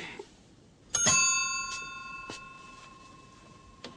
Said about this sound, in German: Also jetzt klingeln.